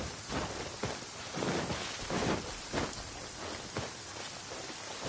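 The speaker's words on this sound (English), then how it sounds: "It's raining again." Steady rain falls in the Genshin Impact video game, a continuous hiss with scattered heavier patters of drops and no voices over it.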